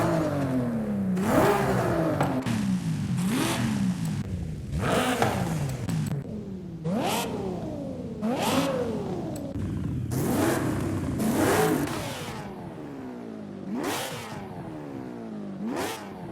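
A Toyota Supra Mk4 with its 2JZ engine in the racing game Forza Horizon 5 revs repeatedly, each pull rising in pitch then dropping off, about eight loud, close bursts in a steady rhythm.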